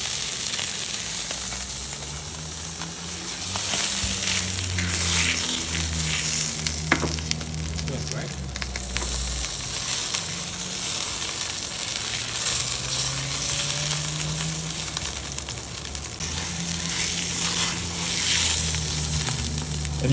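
Steak sears in a very hot pan, giving a loud, continuous hiss and crackle close up that holds steady for about twenty seconds, with no talking.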